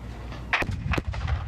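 A muzzle-loading cannon fired with a friction primer whose spark runs through a copper tube of fulminate into the powder bag, giving a sharp close blast followed by a second loud crack and rumbling echoes.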